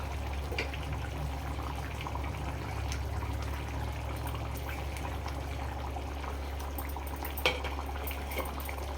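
Fish curry (Andhra-style bangaru teega iguru) simmers in a pot, giving a steady low bubbling with faint clinks and a small pop near the end, with no talking.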